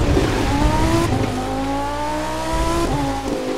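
A car brakes in The Crew 2 racing game, its engine tone falling steadily as tires squeal, loud and continuous over about three seconds with no talk.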